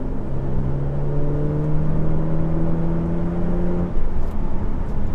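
A Maserati Grecale GT in normal GT mode pulls hard up to a 60 mph limit, its engine note rising in smooth, steady tones over road rumble inside the cabin before easing off near the end.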